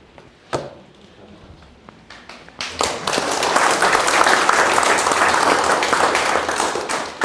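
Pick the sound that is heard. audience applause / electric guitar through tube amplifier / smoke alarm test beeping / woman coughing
audience applause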